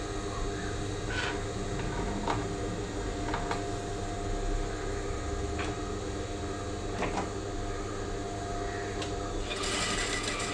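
A sewing machine top-stitches a saree blouse, running in a steady mechanical whir with short bursts and pauses as the fabric is guided.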